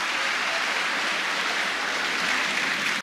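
A church congregation applauding together, a dense steady wash of many hands clapping that fills the room evenly, then cuts off abruptly at the end, with no speech over it.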